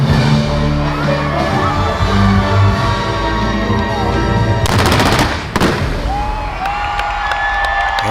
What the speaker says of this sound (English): you have to round things out with the Disney Fireworks Show